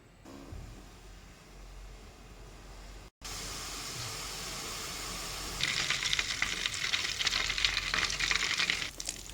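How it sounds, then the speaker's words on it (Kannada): Butter heats in a pan on a home stove, with a soft, steady sizzle that swells into a louder, crackling frying hiss partway through. "ಬೆಣ್ಣೆಯನ್ನು ಕಾಯಿಸ್ಲಿಕ್ಕೆ ಇಟ್ಟೆ"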